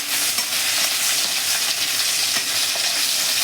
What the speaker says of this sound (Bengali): কাঁচা লঙ্কা দিয়ে নাড়ছি